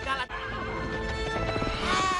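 Horses ridden by samurai in a Doraemon cartoon whinny loudly and close, a brief break followed by continued neighing and clip-clop hooves over a busy background.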